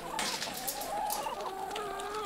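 Several cartoon chickens cluck and squawk continuously and close, with a brief rooster-like call mixed in, filling a short stretch alone without talk.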